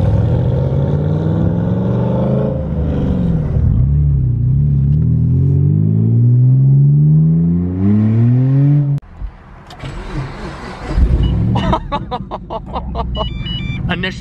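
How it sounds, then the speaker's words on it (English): Straight-piped BMW Z4 cars with no exhaust rev up, the engine note climbing and rising in pitch as it is blipped, followed by rougher, choppy rumbling and clatter, loud and close. "it is so entertaining listening to those cars with just pure engine savagery"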